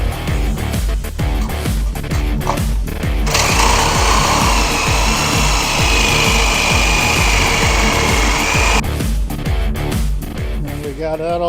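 Power tool cutting metal on a Honda CT90 motorcycle, a loud steady grinding whine for several seconds, framed by rhythmic working noise and some talk.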